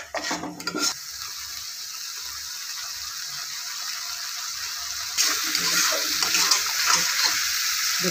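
Masala spices for paneer curry being stirred and fried in a pan, a steady scraping and sizzling texture that grows louder and denser partway through, with no talk.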